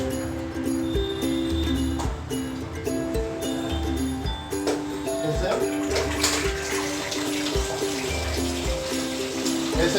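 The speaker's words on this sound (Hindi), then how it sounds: "यहाँ से पहले पानी बाहर आने देना है।" Water running from a tap through a Clifton DLX M913 instant portable water geyser, a steady splashing flow throughout under someone speaking and a droning motor hum.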